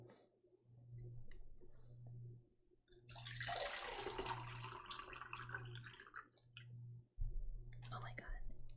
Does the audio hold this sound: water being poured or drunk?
yes